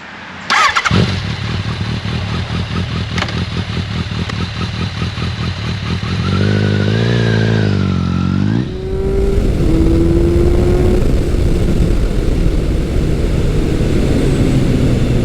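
Motorcycles on the road, an engine starting with a sharp clatter then a steady loud idle rumble, a revving rise and fall, and a second pass of strong engine and road noise, all close with no talk.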